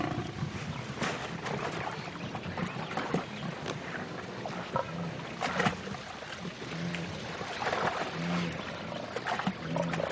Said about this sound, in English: Seized at the throat, this gnu has no chance. The lioness's jaws have broken its spine.